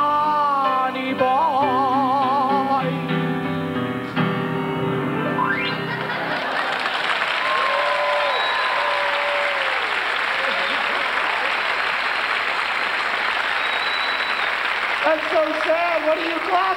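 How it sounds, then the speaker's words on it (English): A comedy-special audience breaks into loud, sustained applause that fills the room for about ten seconds, after a sung passage at the start, with a voice speaking again over the fading claps near the end. "What are you clapping at?"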